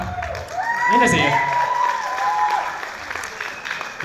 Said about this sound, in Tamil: இது உங்களுக்கான கைத்தட்டல்.